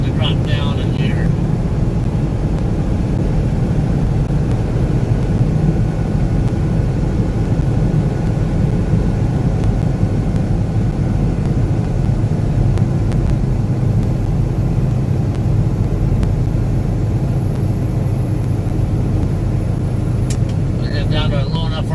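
A semi truck engine drones heavily while downshifting on a 6% downgrade between Bellemont, Arizona and Gallup, New Mexico, a loud, unbroken low rumble with no clear break in the sound.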